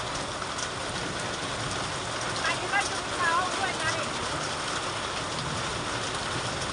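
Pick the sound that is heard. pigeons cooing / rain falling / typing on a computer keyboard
rain falling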